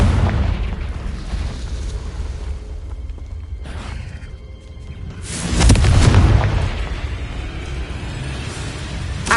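A Confringo blasting spell explodes in Hogwarts Legacy: a sharp burst near the middle, then a loud, deep, rumbling boom that swells and fades over a second or two, with a steady game ambience underneath.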